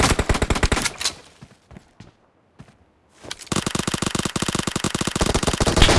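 Uzi submachine gun firing in a warehouse map of a team shooter game, loud rapid automatic bursts close up, a roughly two-second pause near the middle, then continuous fire to the end.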